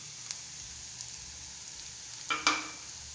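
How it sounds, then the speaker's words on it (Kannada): Ginger and green chillies frying in a pan, a faint steady sizzle throughout with a brief louder burst of stirring or spattering near the end. "ಫ್ರೈ ಮಾಡಬೇಕು. ಅದು ಮಿಕ್ಸ್ ಆಗಬೇಕು."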